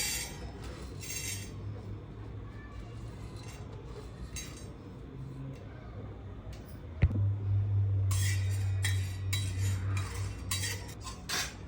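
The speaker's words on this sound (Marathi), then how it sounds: "तवा गरम झालाय, आता आपण याच्यात चणा डाळ भाजून घेऊया।" Chana dal being dry-roasted on a hot tava: faint rattling and scraping of the lentils against the metal, with sharp clinks of a spatula and a louder clatter partway through, and no speech.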